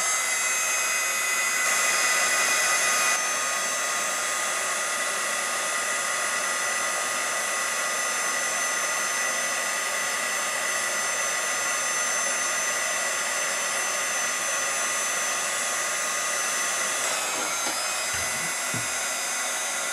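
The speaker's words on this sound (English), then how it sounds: "And then go ahead and add your heat gun." A heat gun blows a steady, loud whooshing roar while drying embossing powder on a stamped image, running continuously and close with only a faint clunk near the end.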